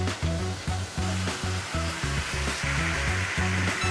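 Braised lamb shank with gravy sizzles loudly on a hot serving pan, giving a dense, steady hiss with pulsing low bubbling throughout, and no voices.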